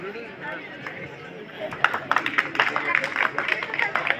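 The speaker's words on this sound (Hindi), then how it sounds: "बहुत बहुत तालियों के साथ आपका।" Applause greets a guest welcoming to the stage at a children's festival closing ceremony, starting as a low murmur and then swelling into a dense, uneven burst of clapping from a crowd.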